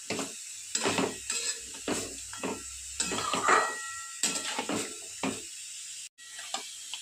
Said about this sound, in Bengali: আমি জাস্ট মশলার সঙ্গে এটা মিশিয়ে নিচ্ছি